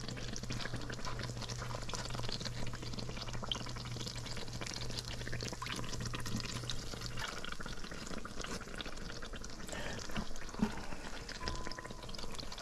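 Bake dough frying while it floats in plenty of hot oil in a pan gives a steady, even sizzle and crackle, close and continuous, with no voices.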